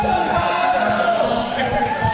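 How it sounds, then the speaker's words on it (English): A dense crowd hum from an excited audience fills the hall at a Classic Tetris World Championship event, steady and fairly loud, with a voice speaking over it. "Crowd is excited to see a game 4."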